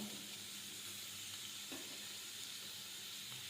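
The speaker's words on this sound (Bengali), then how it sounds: "প্রথমে সবজিগুলো দিয়ে দিলাম, বাঁধাকপি, গাজর, আদা, রসুন, পেঁয়াজ কুচি, এগুলো একটু ভেজে নেব।" Cabbage, carrot, ginger, garlic and chopped onion fry in white oil in a wok, giving a soft, steady sizzle and hiss with faint stirring.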